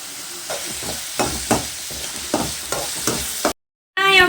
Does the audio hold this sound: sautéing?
yes